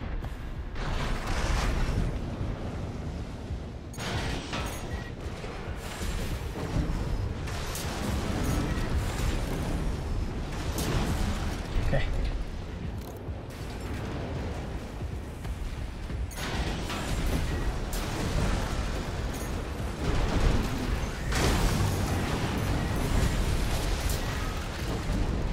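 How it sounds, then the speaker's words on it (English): A barrage of missile explosions in the mech combat game Armored Core VI, a continuous loud rumbling roar of overlapping blasts and booms that lasts throughout with no pause. "A million missiles."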